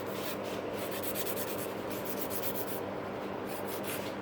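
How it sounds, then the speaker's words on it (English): A nail file rasps in quick, even back-and-forth strokes under a gel nail during an infill, a close, soft scratching that pauses briefly near the end, with no voices. "by just filing it from underneath, I'm straightening it up a little bit."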